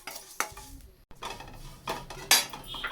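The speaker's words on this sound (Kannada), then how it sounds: "ಒಂದು ಅರ್ಧ ಸ್ಪೂನ್ ಟೇಬಲ್ ಸ್ಪೂನಷ್ಟು ಮೆಂತ್ಯ ಹಾಕ್ಕೊಂಡು ಹುರ್ಕೊತಾ ಇದ್ದೀನಿ" Fenugreek seeds are roasted in a pan for red raw-mango chutney, a spoon scraping and stirring in scattered clinks and scrapes with faint sizzling, close and quiet, no talk.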